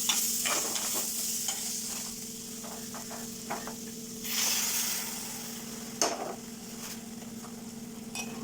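Cooked squid and its liquid go into a pan of frying onions for a Kerala squid roast curry, giving a steady hiss and sizzle with stirring scrapes and a louder burst of frying partway through.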